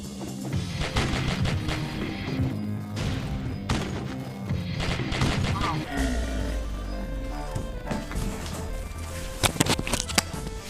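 Killer Bean video game gunfire, rapid shots and crashing impacts layered with game music and effects, under excited talking.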